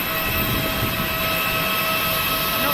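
Loud, steady AirAsia aircraft engine roar with a constant high whine, filling the whole clip without a break.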